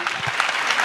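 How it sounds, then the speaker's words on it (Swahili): A brief, dense burst of audience applause at a student career fair, loud and continuous for under a second. "Makofi tafadhali ya kizungu."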